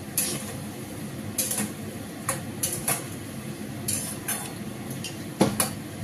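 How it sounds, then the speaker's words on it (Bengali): Kofta curry is stirred in a pan with a spatula, giving irregular metallic scrapes and clinks against the pan over a faint low sizzle, close and fairly quiet. "ভালো করে নাড়িয়ে দেবো।"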